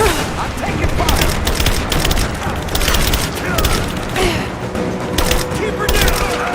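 Gunfire in Rise of the Tomb Raider on Xbox One S, a sustained barrage of overlapping shots and booms under shouting voices, loud and continuous.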